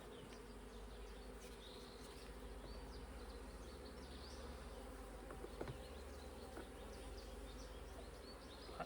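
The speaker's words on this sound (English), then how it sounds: "This is the sound of agitated bees." Agitated honey bees droning in an open hive during a queen search, a dense, steady buzz close up with a constant low hum underneath.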